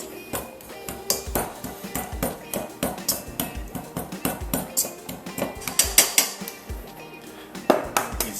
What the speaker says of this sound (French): On va le couper avec un coupe-pâte.